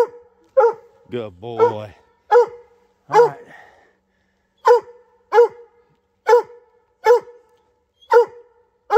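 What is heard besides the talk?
mountain cur coon dog barking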